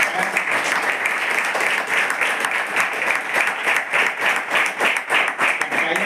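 Dense, continuous applause from a group at a tribal girls' hostel in Amravati, with brisk, fast clapping that holds steady throughout, close and loud.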